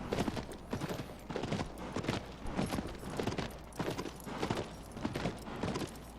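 Horse hooves clip-clopping in the video game Shadow of the Colossus, a steady, even gallop rhythm at moderate volume with no talking over it.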